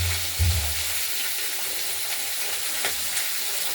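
Boiled peas and potatoes dropped into hot oil with a cumin tempering for vegetarian ghugni, a close steady frying sizzle with a few low thuds and stirring scrapes, no talk.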